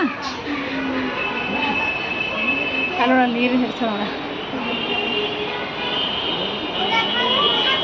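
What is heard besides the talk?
Bangalore Namma Metro train passing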